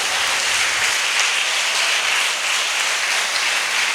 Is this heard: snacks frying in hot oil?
no